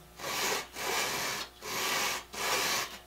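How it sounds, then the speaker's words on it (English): A Stanley #8 plane blade run back and forth across a turning grinding wheel against the tool rest, giving four rasping grinding strokes in an even rhythm with short pauses between, close and loud. "run it back and forth across the wheel while it's turning with that edge up against the tool rest"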